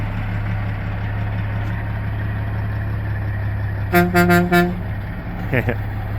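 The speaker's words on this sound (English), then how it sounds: "There goes truck number 2." A semi truck loaded with beehives rumbles steadily at a distance, and its horn gives a quick series of four or five toots partway through, then a short final honk.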